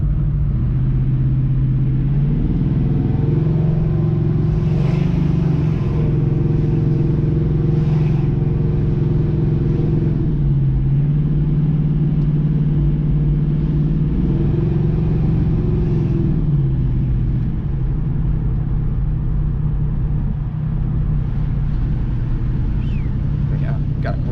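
A 1969 Chevrolet Nova with a swapped engine drives along, its low engine rumble droning steadily with tones that rise and fall as it speeds up and slows down, while people talk inside the car.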